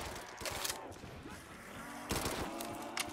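Gunfire in the Call of Duty Zombies mode on a modded Dome map crackles in rapid bursts, with two dense volleys and scattered shots, fairly quiet overall with game noise beneath.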